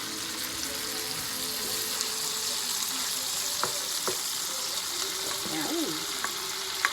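Zucchini frying in a pan with pork and mushrooms, a steady close sizzle with occasional soft stirring clicks and scrapes throughout.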